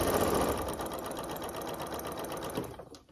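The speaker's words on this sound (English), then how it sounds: "And then I'm going to just stitch onto my fabric." Sewing machine stitching quilt fabric for a Hunter Star quilt block, a steady close whirring run of stitches for about three seconds that stops abruptly at the end.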